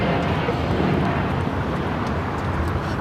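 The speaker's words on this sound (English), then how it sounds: "This is LL Flight 6 taking off to Tel Aviv on the 787-9 Dreamliner." A Boeing 787-9 Dreamliner, flight LY6 bound for Tel Aviv, takes off at LAX with a loud, steady broadband engine roar that stays close and constant without any pause.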